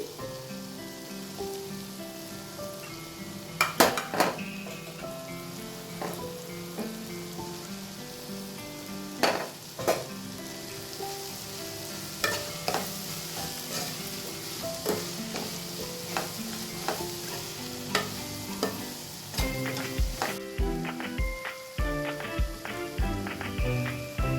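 Chana masala curry fries in a pan as salt, chilli and turmeric go in, a continuous close sizzle broken by repeated spoon scrapes and taps against the pan, with no talking.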